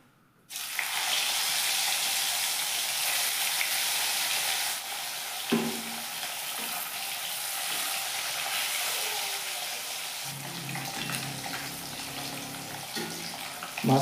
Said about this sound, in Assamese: তেলখিনি গৰম হৈছে তো মাছখিনি আমি ফ্ৰাই কৰিম ফাৰ্ষ্ট